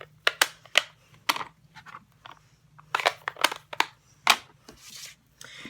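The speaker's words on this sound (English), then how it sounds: "so I can close up my palette" Several sharp plastic clicks and snaps, some in quick pairs, as a Stampin' Up! ink pad palette is shut up close by, with quieter rustling between and no talk.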